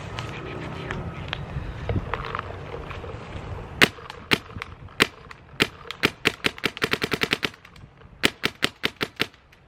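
A Shocker Era paintball marker firing outdoors: sharp, close cracks that come first as single shots, then in quick rapid-fire strings, with pauses between them and some background noise before the shooting starts.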